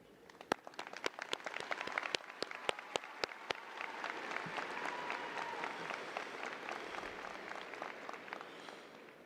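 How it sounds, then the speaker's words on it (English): A graduation audience at Lewisville High School applauds standing seniors ranked 11 through 20 in the class, with sharp early claps building into a steady, dense roar of clapping that sustains throughout. "Please stand so that we can applaud you"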